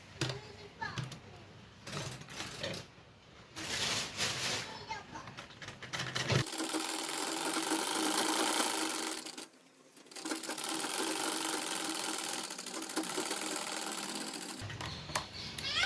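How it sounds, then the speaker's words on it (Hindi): A sewing machine runs in long steady stitching bursts while a zipper is sewn onto a fabric lunch bag, close and loud, with someone talking before and after and children faintly in the background. "इस तरह से इस जिप को लेके यहाँ से यहाँ तक सिलाई करेंगे। इस तरह से सिलाई करेंगे।"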